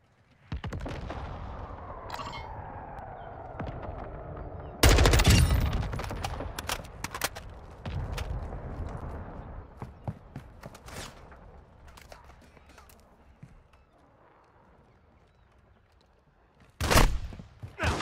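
Gunfire in Call of Duty MW2 DMZ: scattered gunshots and bursts, with a heavy, loud blast near the start, a long stretch of lighter shots and rumble, then another sharp loud volley near the end.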